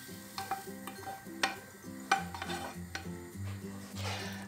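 Onion and carrots being added to a simmering pot of beetroot borscht, with clanking spoon or utensil hits against the pot and bubbling, several sharp knocks spread across the clip.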